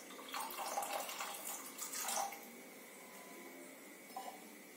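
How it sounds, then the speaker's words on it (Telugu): Water from a glass is poured into a pressure cooker holding raw tamarind pods for a tamarind rice dish, a splashing, gurgling pour that runs strongly for about two seconds, then dwindles to faint trickles in a quiet kitchen. "1 గ్లాస్ వాటర్ వేస్తున్నాను."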